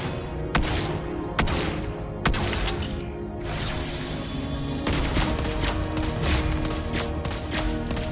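Gunfire in the video game Mobile Legends: Bang Bang comes as a run of sharp, loud shots at irregular intervals over a dense layer of game noise, with no talking.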